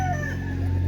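Gamefowl rooster crowing at a gamefarm, a single close, clear crow heard alone.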